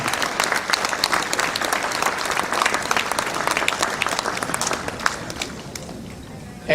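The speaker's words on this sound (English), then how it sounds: "please give a round of applause for CS2 Jaime Molinar" Gala audience applauding a Navy sailor's singing at a Vietnamese-American veterans' 2019 banquet, loud, close clapping from many guests that thins and fades toward the end before a sudden louder burst, with faint talk mixed in.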